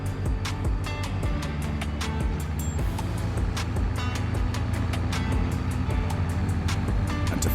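A tractor rumbles steadily across a grass field in the video game Farming Simulator 25, its engine drone continuous and even, with a series of light regular clicks and ticks riding over the low hum.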